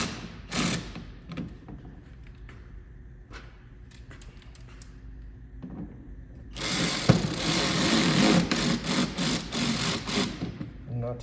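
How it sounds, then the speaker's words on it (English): Fasteners being driven back in to reinstall a mud flap splash guard on a fourth-generation Toyota Highlander, starting with scattered clicks and taps, then a sustained buzzing power-tool run in short pulses near the end. "And now we just go ahead and reinstall the mud flap"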